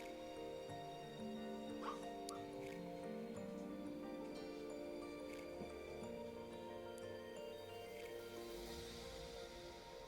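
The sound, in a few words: dog barking in her sleep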